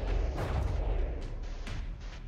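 Shell fire in From the Depths during a tournament battle between the vessels Slapdash and Scimitar: heavy booming shots and impacts roll over a steady rumble, with a few sharper reports standing out.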